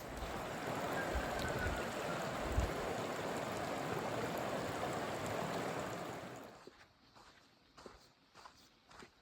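Stream water rushes at a High Sierra Trail crossing, a loud, steady roar that drops away after several seconds, leaving faint splashes and steps.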